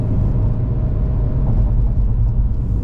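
A GAC GS3 SUV with a 1.5-litre naturally aspirated engine and six-speed automatic climbs a hill in fifth gear, giving a steady low engine drone and road rumble heard from inside the cabin.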